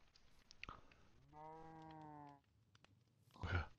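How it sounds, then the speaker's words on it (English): A Minecraft sheep gives a single drawn-out bleat lasting about a second in a skyblock game, surrounded by faint clicks and a louder game sound at the end, with no talking. "We got a sheep."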